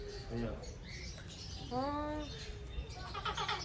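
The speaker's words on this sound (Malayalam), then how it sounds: "നമ്മൾ കിളിക്കൂട്ടിൻ്റെ ഉള്ളിലാണ് ഇപ്പോൾ ഉള്ളത്." Birds chirp inside an aviary at a farm villa in Chavakkad, Thrissur, giving short, faint tweets mixed with people talking nearby.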